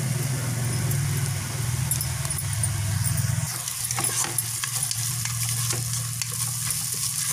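Chopped onions fry loudly in a pan as ginger garlic paste is added and stirred, giving a dense continuous sizzle with scraping spoon sounds, close and alone.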